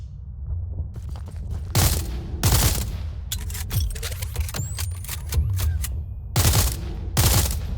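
Gunfire at targets in the space combat game SpaceBourne 2, with several loud, sharp bursts and booms spaced irregularly over a steady engine hum.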